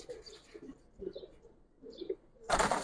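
Giribaz pigeons coo in low, soft bursts close by, repeated a few times, followed by a sudden loud burst of wing flapping at the end.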